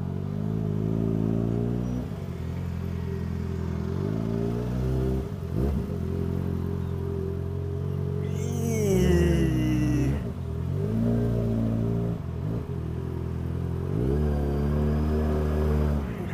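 A motorcycle engine drones steadily with rising and falling revs, surging louder near the middle, with a brief high whine over the rumble.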